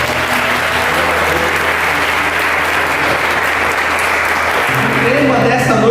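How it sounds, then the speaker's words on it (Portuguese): A large church congregation at a Portuguese-language worship service claps steadily in dense, loud, sustained applause that fills the room before fading near the end as a voice returns. "Dá uma salva de palmas para Jesus"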